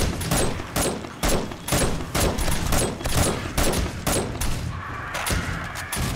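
Rapid bursts of gunfire and automated turret shots from the video game 7 Days to Die, loud, sharp reports in quick repeating volleys over a steady background din.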